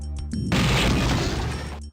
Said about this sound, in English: Close the door and wait for the big bang.